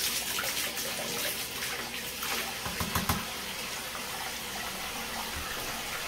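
A part from a Bissell PowerForce Helix vacuum is rinsed under running tap water, giving a steady splashing rush with a few uneven spatters and no talk.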